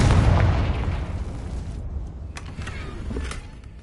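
A Confringo explosive spell bursts in Hogwarts Legacy, a loud, booming blast at the start that rolls off into a low rumble, followed by a few faint crackling pops.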